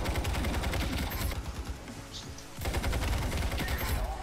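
Dense, loud gunfire in a close-quarters IronSight gunfight, rapid automatic bursts stacking almost continuously, with a brief lull midway before the shooting surges back.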